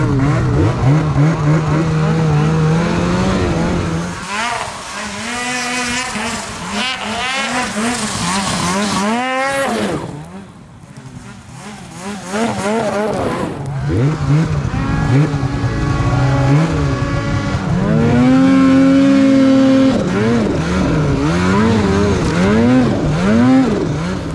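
A snowmobile fitted with a BoonDocker aftermarket muffler revs loudly and close by, its engine pitch rising and falling through repeated throttle blips, briefly easing off mid-clip before building again to a strong high-rpm run.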